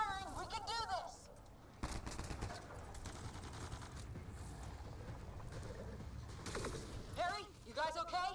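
Gunfire in a Mass Effect Andromeda battle, with bursts of weapon fire and mechanical rattling beneath shouted voices, and quieter stretches between the louder volleys.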